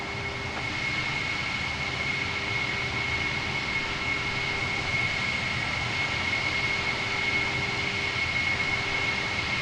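Concorde jet engines in Microsoft Flight Simulator roar steadily during takeoff, a loud continuous broadband rush with a faint high tonal whine throughout, alone without talk.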